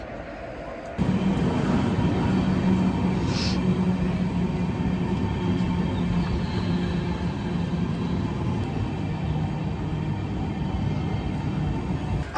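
A passenger train rolls along with a steady, loud, continuous rumble and rattle that starts abruptly and carries on without a break.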